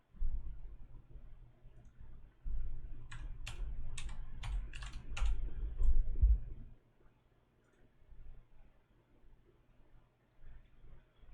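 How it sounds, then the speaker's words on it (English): Keys on a computer keyboard are tapped in a quick burst of about eight crisp clicks over a low room hum, with no talking, followed by a quieter stretch. "that is what I will type into my answer box"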